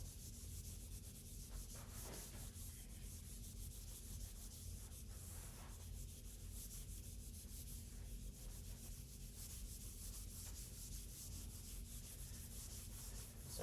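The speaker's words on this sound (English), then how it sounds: "This eraser's not very good." Lecture-room eraser wiping a board, a continuous faint scrubbing rub with light repeated strokes, sustained for several seconds without talk.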